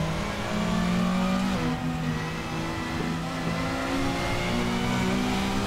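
A race car engine in a sim racing video game revs hard and steadily through a launch, with a continuous loud mid-pitched drone and rising, shifting tones. No voices are heard.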